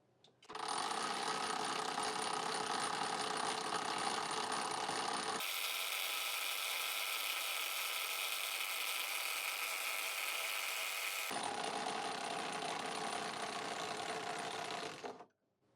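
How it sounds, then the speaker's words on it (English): Hyper Tough impact wrench hammering continuously on a torque test rig at 1750 PSI, a loud, dense mechanical rattle running for about fifteen seconds with a shift in tone midway. "Let's do the Hyper Tough again since the gear's already on it"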